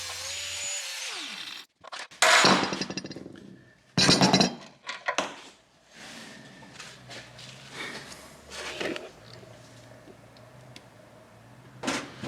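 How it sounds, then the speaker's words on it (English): A rubber mallet hammers the rusty rear axle of a Subaru WRX STi in a garage, landing a few loud metallic blows in bursts between quieter clinks and shuffling, with no talk. "Rubber mallet says hello."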